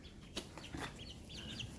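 A chicken clucks in a backyard pen, sharing a two-compartment enclosure under a heat lamp with guinea keets and ducks; the clucks are short, faint and scattered against a low steady background.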